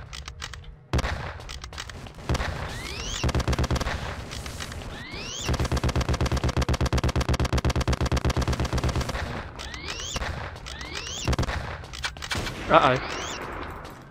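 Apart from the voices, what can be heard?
gunfire in the video game The Principality of Mars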